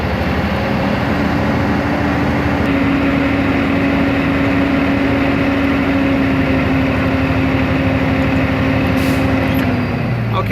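A truck engine runs steadily at raised RPM to fill its air brake tanks, a loud continuous drone with a sustained tonal hum that drops slightly near the end.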